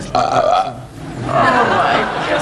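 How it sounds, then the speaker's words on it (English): A man on a 1990s television entertainment show lets out a long, loud, gravelly belch after a drink, close up, with a brief break partway through. "now could you try drinking a belch?"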